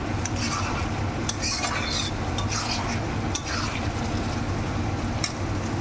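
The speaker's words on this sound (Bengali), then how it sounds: "এবার নামানোর আগে একটু গরম মশলার গুঁড়ো দেব দিয়ে ভালো করে নেড়ে নিয়ে" Lotte fish curry stirred in a pan with a spoon, close scraping and clinks over a continuous low sizzle.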